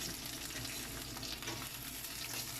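Onion frying in a pan for a spare-rib kaldereta, a steady dense sizzle with soft stirring scrapes, close and continuous with no talk.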